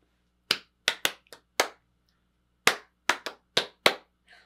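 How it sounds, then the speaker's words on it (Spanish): Ten sharp hand claps in two bursts, five quick claps, a pause, then five more, crisp and close with silence between. "Vamos a aplaudir."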